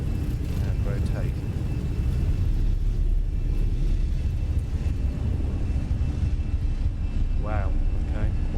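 An EasyJet airliner rolling down the runway on takeoff in Microsoft Flight Simulator 2020, a steady loud engine rumble and roar throughout, with a voice speaking briefly over it near the start and again near the end.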